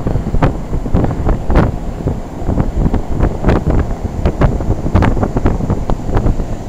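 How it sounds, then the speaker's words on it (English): An old 1981 Bryant heat pump runs in cool mode outdoors at a commercial property on a hot day, giving a steady, loud broadband roar with rough fluttering pulses, partly muddied by wind noise on the microphone. "This is an old Bryant heat pump running in cool mode, located at a commercial property."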